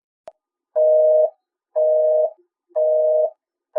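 A telephone busy tone sounds after a hung-up call: a short click followed by three loud, steady beeps of equal length with even gaps, and the start of a fourth.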